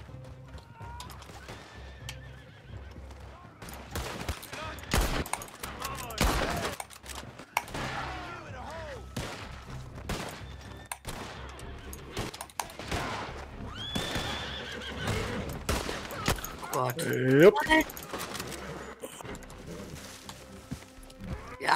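Horses in the Red Dead Redemption 2 video game whinny several times amid clip-clopping hooves and occasional mechanical clunks, with players talking intermittently over the game sounds.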